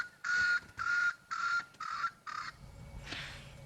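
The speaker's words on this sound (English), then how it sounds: "It's called a Swainson's spurfowl." Swainson's spurfowl calling in the wild African bush at sunset: a series of five loud, harsh, grating calls in a steady rhythm, each lasting about a third of a second, followed by quieter rustling.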